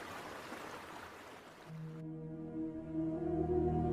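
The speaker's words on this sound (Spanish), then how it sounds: "Se escucha mucho el río." A river flows loudly beside a campsite, a steady broadband wash of rushing water that later gives way to a low sustained droning hum with layered tones.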